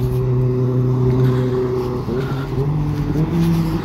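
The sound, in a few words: motorbike passing by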